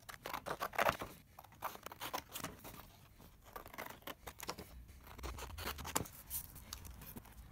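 Scissors snip and crunch through a paper template being trimmed to size, a close series of short cuts and crinkles at moderate volume with no talking.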